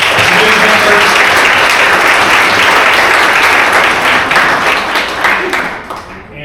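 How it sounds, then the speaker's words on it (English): A large audience applauds committee members at an installation ceremony, dense loud clapping held steady for several seconds before tapering off at the end. "please, a round of applause to our committee members"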